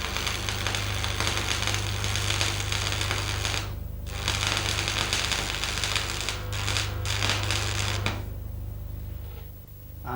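Arc welding at slightly too low current gives a close, continuous crackling sizzle over a steady electrical hum, broken by brief gaps where the arc drops out and restarts.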